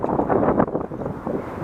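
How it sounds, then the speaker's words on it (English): Strong wind blowing by the San Juan river near Punta Arenas, Chile, buffeting the microphone in a continuous low roar that swells and dips. "It's windy, like always in Punta Arenas."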